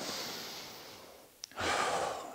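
Deep breaths taken while resting between sets of air squats in a home workout, a long soft exhale fading out, a brief sharp sniff, then a loud rushing inhale close to the mic.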